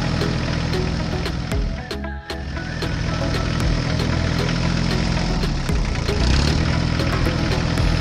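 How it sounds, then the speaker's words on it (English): A tractor engine pulling a cultivator through a field, a loud steady diesel drone with continuous rattling and clanking, one brief dip in the middle. "Today, the tractor has an important task: to loosen the soil using a cultivator."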